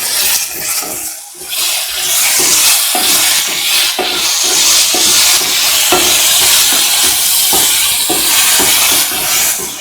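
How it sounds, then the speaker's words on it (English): Potatoes are stirred with rice and other ingredients in a pan, a loud close scraping, rustling churn with a steady sizzling hiss underneath and rhythmic spoon strokes repeating about every half second. "Mix the potatoes with the rest of the ingredients"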